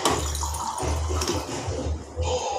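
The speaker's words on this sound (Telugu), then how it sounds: "సరిపడా వాటర్ వేసి" Water is poured into a pressure cooker pot holding eggplant, tamarind, garlic, coriander and curry leaves, making a continuous, close splashing and gushing that runs alone for the whole stretch.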